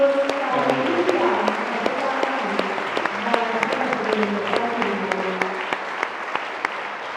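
An outdoor crowd at a Catholic patronal festival applauds, a broad, sustained patter of many hands with sharper individual claps standing out, while a voice carries faintly underneath.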